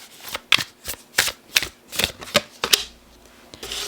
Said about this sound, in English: I need to shuffle it a little more